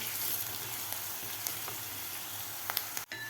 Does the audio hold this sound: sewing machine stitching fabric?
no